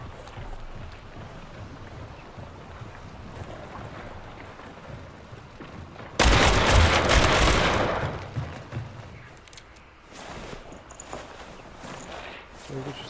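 Gunfire in the video game Hunt Showdown erupts as one loud, sustained burst of shots over a background of ambient noise, followed by fainter scattered reports, with players talking throughout.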